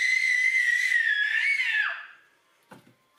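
A child screams in a long, loud, high sustained shriek that wavers and then drops away, followed by a short faint rustle in near silence.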